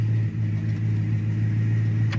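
A 1974 Dodge Charger engine idles steadily, close and loud, with a constant low rumbling drone and a brief dip at the start, no talk.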